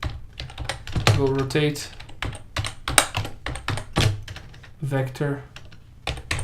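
Clicky keystrokes on a computer keyboard come in short bursts, close and fairly quiet, interleaved with someone talking over them.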